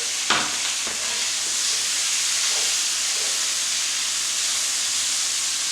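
Ham fat renders in a hot pan, giving a steady, even sizzle and hiss with a couple of brief clinks or stirs near the start, heard close and alone without talk.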